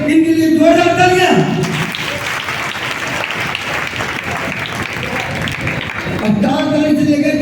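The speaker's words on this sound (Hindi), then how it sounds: "इनके लिए जोरदार तालियां" Loud audience applause fills the middle of the clip, dense and sustained, at a Bhagavat Katha gathering in a temple courtyard, with an amplified voice speaking before and after the clapping.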